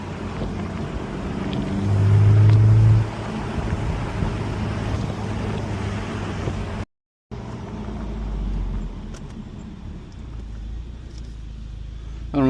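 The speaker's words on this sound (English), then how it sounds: "This car just sounds amazing." A car's exhaust drones steadily while driving on Bull Road in York County, Pennsylvania, with wind buffeting the microphone, a louder surge early on and a brief cut partway through.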